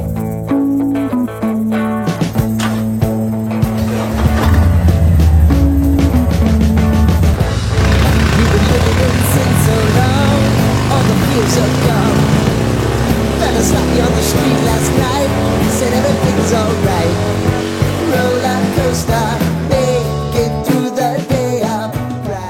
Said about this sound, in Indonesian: Nanti aku terangin mesin ini dengan Dynojet.